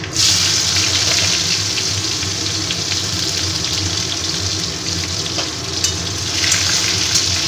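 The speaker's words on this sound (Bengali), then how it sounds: "ওই তেলে আমি একটা তেজপাতা আর একটু রাঁধুনি আর কালো সর্ষে ফোড়ন দিয়ে দিলাম।" A bay leaf with radhuni and black mustard seeds sputters in hot oil as a tempering, making a loud, dense, continuous sizzle and crackle close by, with no talk over it.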